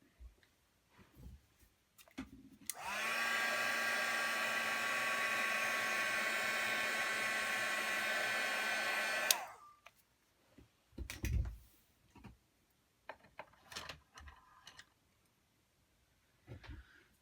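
A hand-held dryer blows over freshly inked craft bird cutouts, a loud steady whooshing hum lasting about six seconds before switching off, followed by faint rustles and clicks of handling nearby.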